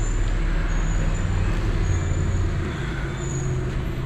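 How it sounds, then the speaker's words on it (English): Heavy trucks arriving outside for tree work, a steady low engine rumble and road noise that holds throughout at moderate loudness, heard from indoors. "here come the trucks to do the trees"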